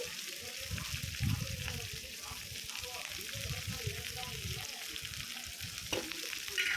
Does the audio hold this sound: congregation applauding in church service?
no